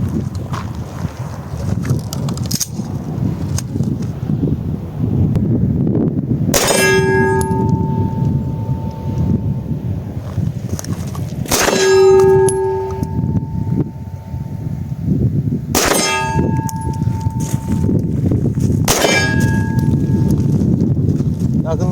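Four loud metallic clangs from a steel gong target struck by live 9mm rounds from a Kılıç 2000 pistol fired at about 20 metres, each ringing on before decaying, spaced several seconds apart over steady outdoor background noise.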